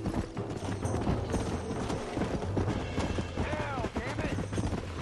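Horses gallop in Red Dead Redemption, a rapid clip-clop of hooves under a busy mix of shouting, whinnies and distant gunfire, loud and continuous throughout.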